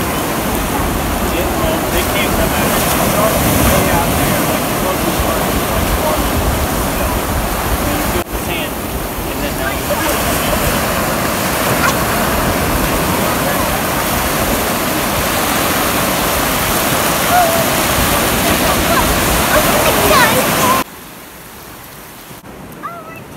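Ocean waves washing onto a beach roar as a continuous, loud broadband surf with wind buffeting the microphone, ending abruptly into a quieter background near the end.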